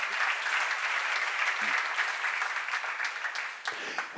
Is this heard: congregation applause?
yes